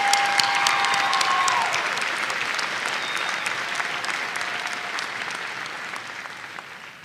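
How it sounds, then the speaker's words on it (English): Loud, sustained applause from a commencement crowd honoring first-generation graduates at a Washburn University fall ceremony, dense steady clapping that fades gradually over about seven seconds. "Please give a round of applause for all of our first-generation graduates today."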